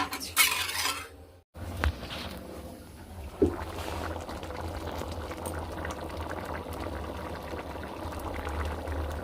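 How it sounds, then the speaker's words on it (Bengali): A soya chilli curry gravy bubbles at a steady boil in a pot. It starts after a short quiet gap, then a soft clunk is heard, followed by constant close bubbling. "চলুন এটা শুকনো মানে ঝোলটা ফুটে উঠুক"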